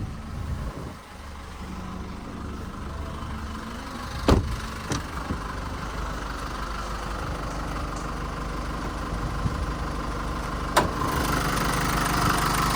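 A 2020 Holden Colorado LS diesel engine idles steadily up close, a low rumbling drone with a faint ticking rhythm and a couple of brief clanks.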